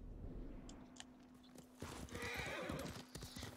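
A horse in the video game Ghost of Tsushima whinnies and snorts, then its hooves clip-clop in a quick cluster on the ground, all fairly quiet and close with no talking.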